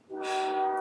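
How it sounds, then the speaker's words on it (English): A train horn blows loud and steady in a single sustained blast, its strong tonal chord filling the short clip without any talk. "there's a train. I haven't had a train in my videos for a while"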